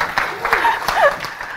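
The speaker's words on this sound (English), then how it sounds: "Come on, give me some clap" Conference talk audience giving a few scattered claps, sparse sharp hand claps spaced apart under a voice as she keeps speaking from the stage.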